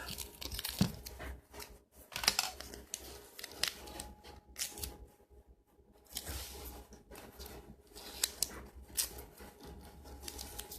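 Adhesive tape being pulled and torn from the roll while a magic wallet is assembled, heard as repeated sharp rips and crinkly crackles in uneven bursts with brief pauses, close up and quiet.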